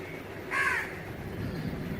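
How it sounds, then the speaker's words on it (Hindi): A single crow gives one loud, harsh caw close by in the morning, set against a steady low background murmur. "एक कौवा आया, एक कौवा आया"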